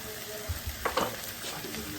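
Pork chops fry in a pan for Southern smothered pork chops, a steady low sizzle with a few soft scraping stirs near the middle, close and fairly quiet.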